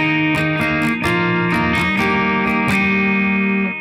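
Electric guitar playing a bass-string line with the 1st and 2nd strings left ringing, a steady sustained drone over plucked moving low notes, close and clear with no talk.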